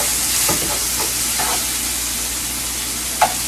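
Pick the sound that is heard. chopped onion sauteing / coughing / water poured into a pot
chopped onion sauteing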